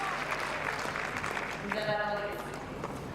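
A tennis crowd at the Hobart International women's match applauds steadily after a game is held for 5-3, with a commentator's voice over the clapping.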